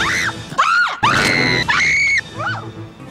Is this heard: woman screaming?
yes